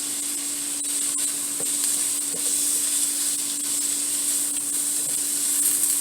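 Food sizzling steadily in a pan with a little seasoned salt, a constant close hiss of frying that holds level throughout, with a faint hum underneath and occasional soft clicks of stirring.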